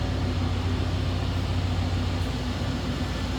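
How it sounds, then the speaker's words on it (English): A stock 1994 Chevrolet Silverado regular cab pickup with a 5-liter 305 V8 idles nearby, a steady, even low rumble with a constant hum and no voices. "Sounds like a stock truck with a 5-liter 305 1994 vintage. Just what you'd expect it to sound like."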